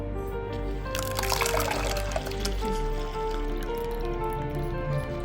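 Hot water and grated coconut mixture strained through a filter to make coconut milk for coconut rice, a steady close trickle and pour of liquid with brief splashy bursts early on, no talking.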